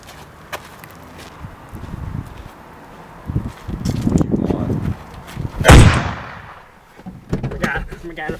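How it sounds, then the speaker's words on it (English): A gunshot rings out loudly in a street scene, a sharp blast standing out among scuffling footsteps and movement, with voices around it. "You just shot that dude in the face!"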